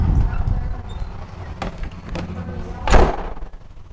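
A greenhouse door is pulled open in a garden setting, giving a couple of dull knocks and then a louder thud-like bang near the end, close by, with background rustle and no clear speech over it.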